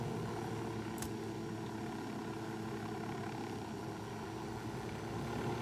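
A helicopter in the Ghost Recon Wildlands video game drones steadily and loudly with a constant rotor and engine roar, nearly uniform throughout, with no talk.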